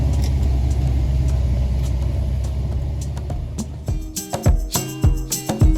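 A Volkswagen cruising along a coastal road with the club, giving a steady close interior engine and road rumble that eases off near the end as bumps and knocks break through.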